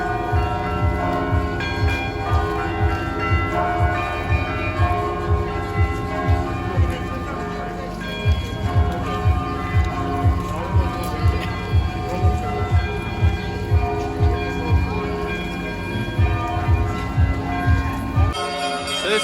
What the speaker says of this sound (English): This is just one of many churches and bell towers all over this city. And that one's going off now